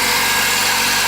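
The engine of a VAZ 2114 car, just rebuilt after a broken piston skirt, runs steadily at idle, a loud close continuous rumble with no talking.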